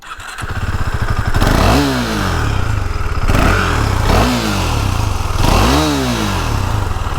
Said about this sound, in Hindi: and now we'll listen to the exhaust sound.